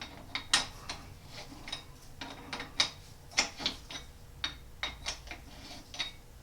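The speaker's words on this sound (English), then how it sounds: "Get the official Wescott wrench involved." A Wescott four-jaw geared scroll chuck being turned with its wrench, giving a quiet run of ratcheting mechanical clicks and gear ticks in an irregular rhythm, close and fairly faint, with no talking.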